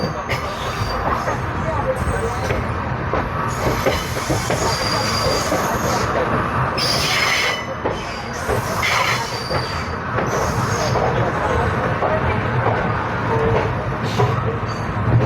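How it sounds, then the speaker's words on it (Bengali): A train rumbles steadily while entering Khurda Road Junction station, its wheels screeching and squealing in long metallic bursts, a continuous loud clatter of rolling carriages. "আমাদের ট্রেন এখন ঢুকছে ভাই"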